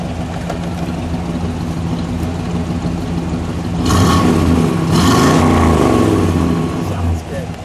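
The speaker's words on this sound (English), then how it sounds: "give it one rev, and we're going to shut it off" 1964 Oldsmobile F-85 Cutlass 442 convertible V8 idling with a steady low rumble, then one sharp rev swelling and settling before shutoff, close by, with people talking faintly over it.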